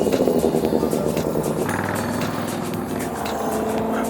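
Several cars speed past on a road in Michigan, a Mazda Miata among them, their engines roaring loudly and steadily close by with rising and falling revs and no talking.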